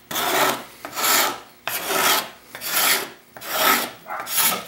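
A scraper plane is pushed across white oak in six rhythmic strokes, each a coarse, rasping scrape that swells and fades, close and fairly loud with short pauses between, and no voices.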